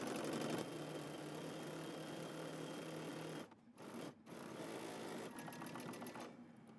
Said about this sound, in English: now we're going to go ahead and stitch the top portion of our collar